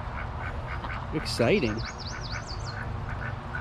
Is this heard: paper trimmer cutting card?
no